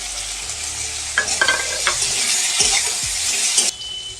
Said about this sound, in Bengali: কাঁচা লঙ্কাটা একটু ভেজে নেব।